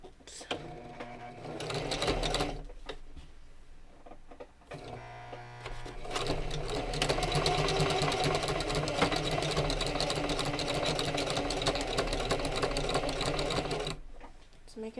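A sewing machine that makes odd noises runs in bursts, whirring and stitching steadily for long stretches with brief pauses between runs, close and fairly loud.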